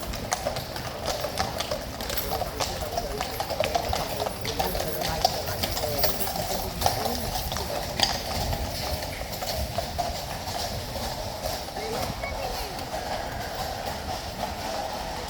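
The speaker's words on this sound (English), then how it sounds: "leading the troopers out on a big fluffy beast of a horse" Steady clopping of hooves on pavement, several troopers' horses moving at a walk, with a busy outdoor bustle and murmur around them.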